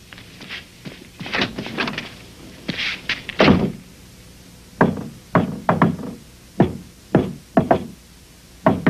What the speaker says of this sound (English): Secret knock?